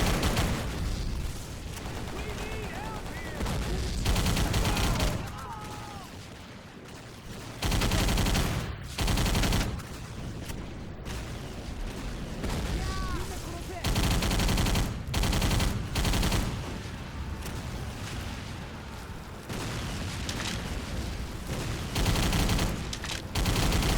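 Video-game gunfire rattles in loud, rapid bursts of automatic fire, with short pauses between volleys and a few distinct single shots.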